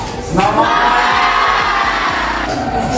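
A class of schoolchildren lets out a loud, sustained group cheer for about three seconds, a dense crowd of young voices shouting together indoors.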